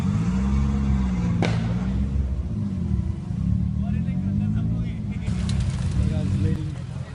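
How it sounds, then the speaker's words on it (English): Honda Civic DC2 race car with a rebuilt B18C engine at a drag strip night event, a loud near engine idle and revving with wavering pitch, plus a sharp bang and further car noise, over people talking. "we're gonna now fire up the cars and do a couple of runs"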